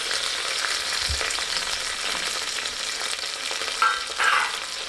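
Fresh mint and green chillies fry in hot oil in a pan for a chicken curry with bagara rice, giving a steady crackling sizzle with a brief stir and a couple of louder spitting bursts near the end.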